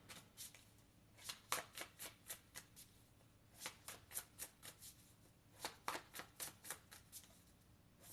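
A deck of cards is shuffled repeatedly, with crisp riffling bursts arriving in quick clusters separated by short pauses, close and clear, with no talking.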